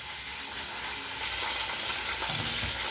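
Plantain pieces frying in oil in a pan, a steady close sizzle that swells a little louder partway through, with no talk.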